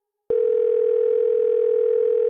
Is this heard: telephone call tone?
yes